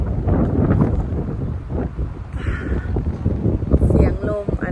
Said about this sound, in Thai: เสียงลมอัน